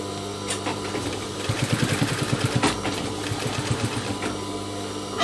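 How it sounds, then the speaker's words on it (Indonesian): A sewing machine stitches down the right side seam of a pair of jeans, from top to bottom, a steady mechanical whir with a brief faster burst of rhythmic needle chatter in the middle, close by and without speech. "Yang pertama saya jahit ini adalah bagian kanan, dari bagian atas ke bagian"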